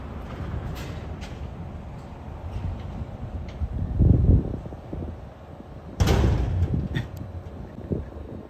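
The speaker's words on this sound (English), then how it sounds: "There they go, closing that door." A shop door being shut, heard as muffled thuds and knocks: a solid bump around the middle followed by a sharper closing thud with a rattle, set against steady background rumble and wind-like noise.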